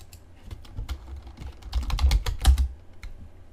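A computer keyboard clatters in quick, uneven bursts of close keystrokes as files are renamed, with no voice heard.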